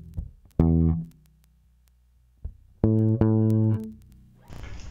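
Bass guitar plays a short line starting from E: a few clean, sustained low notes separated by silences and a muted thump, ending in a brief noisy scrape.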